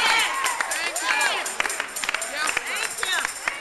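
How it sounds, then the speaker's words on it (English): Church congregation at a morning service giving a hand clap of praise, a dense run of sharp claps mixed with crowd murmur and voices throughout. "Give the Lord a hand clap of praise, for the Lord has never left you."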